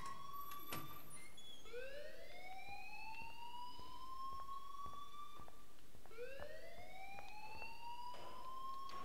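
In the video game Life is Strange, a fire alarm sounds with two rising wailing sweeps, each climbing and holding, under faint clicks and background ambience at moderate volume.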